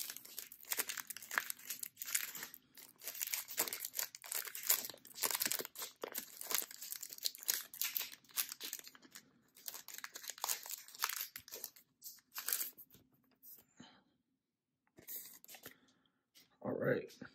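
Foil wrapper of a vintage Pokemon Crystal Guardians booster pack being opened close up: sustained crinkling and tearing rustles, loud and busy, then pausing before a final crinkle.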